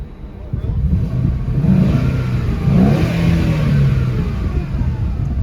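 A 5.0 V8 S197 Ford Mustang with a six-speed manual being driven, its engine rumbling steadily and rising through a couple of rev swells, heard loud from inside the car.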